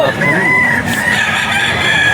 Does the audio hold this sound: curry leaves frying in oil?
no